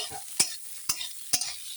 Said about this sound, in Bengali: মশলাটা ভাজা হয়ে গেল সুন্দর করে একটু ভেজে নিলাম